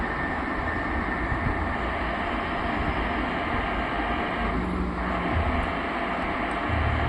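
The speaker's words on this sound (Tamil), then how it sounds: "இந்த பேபுன்னு சவுண்டு கேட்குதுல, அது ட்ரெயின் வந்தால் வர சவுண்டு போகுது" A bus engine in a video game drones with a steady, rumbling roar that resembles an approaching train, continuous and fairly loud with no talking.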